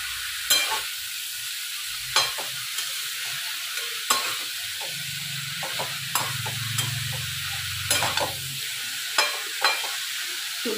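Salted ridge gourd cooks down in a pan, releasing water under a low steady sizzle, with periodic sharp spatula taps and scrapes and a brief low hum in the middle.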